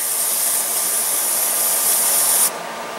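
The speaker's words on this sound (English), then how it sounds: "I have, in good faith, sprayed everything growing down here in the basement." In a basement growing area, a spray bottle hisses garlic pesticide onto plants in one long, close, steady burst lasting over two seconds before stopping abruptly.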